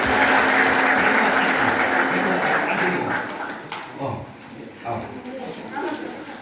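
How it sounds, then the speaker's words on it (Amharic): A congregation at a worship service claps in a loud, dense burst for about three seconds. The clapping thins out, and speech continues over the room. "ባረጋችሁ አጨብጭቡ።"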